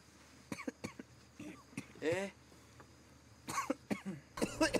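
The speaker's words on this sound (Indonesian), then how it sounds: "mendengar suara batuk-batuk" Several short coughs and throat clearing sound faint and close, scattered across the clip with quiet gaps, inside a tent on a mountain camping trip.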